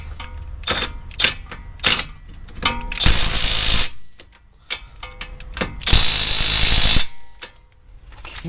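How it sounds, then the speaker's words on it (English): Ratchet wrench clicking on a Toyota Sienna front strut during a strut bearing replacement, with quick close bursts of pawl clicks separated by pauses and two longer sustained runs of rapid ratcheting. "Check with the wrench."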